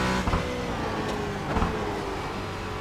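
A Porsche Cayman GT at Road America in iRacing shifts into third gear, with brief engine note changes and short bursts as the revs drop and pick up, close and fairly loud.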